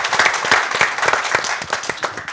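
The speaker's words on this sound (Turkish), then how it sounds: "bir alkış" Loud, close crowd applause at a Turkish folk music program, brisk overlapping hand claps with audible individual slaps, thanking the women in attendance.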